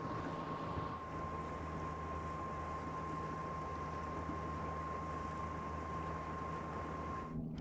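A Mercury Avator 35e electric outboard motor pushes a 4.5m boat with a steady whine and constant rushing water and wind noise, continuous and even throughout before cutting off abruptly at the end.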